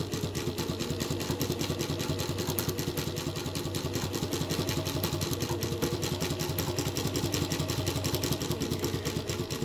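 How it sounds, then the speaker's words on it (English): A Mauzer chain stitch embroidery machine stitching silk rayon floss, a steady fast mechanical clatter with even rapid pulses running nonstop at close range. "Mauzer regular chain stitch machine and Mauzer silk rayon floss from Abdul Bari."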